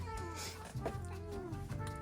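Cats meow at feeding time, a couple of short mews rising over a room full of close clatter and movement, with a voice speaking softly alongside.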